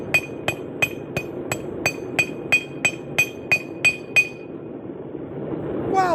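A hammer strikes the flat back horn of an anvil about a dozen times in a steady rhythm while forging, each blow ringing out bright and sustained over a low background hum, then the strikes stop.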